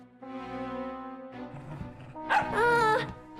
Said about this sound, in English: Ungrateful dog.